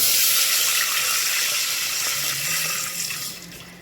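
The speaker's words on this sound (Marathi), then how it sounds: "तेल टाकल्यानंतर त्याच्यात पाणी टाकायचे" Water poured from a container into a cooking pot already holding oil, making a steady rushing splash that slowly thins and settles as the pot fills, close and fairly loud with no voices.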